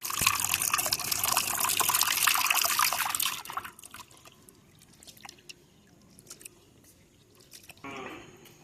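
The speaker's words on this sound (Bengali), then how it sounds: "পরিষ্কার পানি বের না হওয়া পর্যন্ত আমি এভাবে ডালটা ধুয়ে নেব" Lentils are rinsed under running water, a loud close rush of flowing water for about three seconds, then quieter trickling and swishing, with a short burst of splashing near the end.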